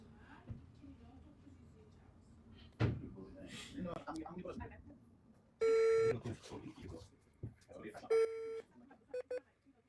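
Telephone keypad tones beep while a call is placed to a Road24 fine-notice call center, several short bursts in quick succession with clicks and handling knocks between them. The tones are close and loud against a quiet room.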